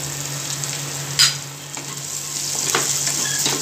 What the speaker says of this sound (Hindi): अब इसी ऑयल में हम लहसुन की कलियां डालेंगे बारीक चॉप की हुई और गैस को एकदम मीडियम फ्लेम पे रखेंगे